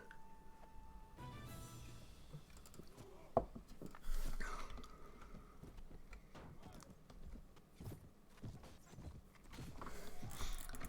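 Galloping horse hooves in a Mount and Blade: Warband Viking Conquest battle, a busy clatter of clip-clop beats mixed with combat noise, with someone speaking over the action.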